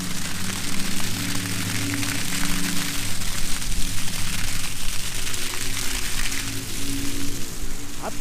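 Steady, heavy rain falling outdoors during a hailstorm, a continuous dense hiss of drops hitting surfaces with a low rumble underneath and no voices.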